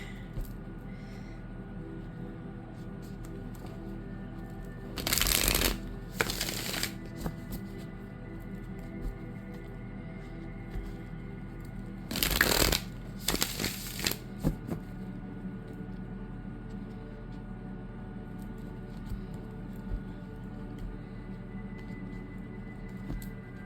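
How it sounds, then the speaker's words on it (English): Two bursts of tarot card shuffling, each a quick riffle lasting about a second or two, close by over a steady low background hum. "the way this deck shuffles is, woo, chef's kisses"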